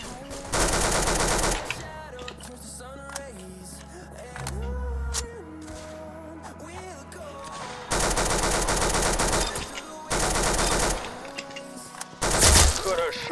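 Bursts of automatic gunfire in a shooter video game come in several loud volleys separated by quieter stretches of game sound, with a player talking in between.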